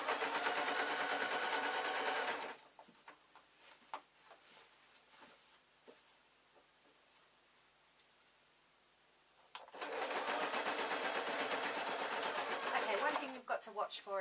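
Sewing machine runs in two loud sustained bursts, stitching elastic onto a denim bag made from recycled jeans, with a quieter stretch of handling and small clicks between them.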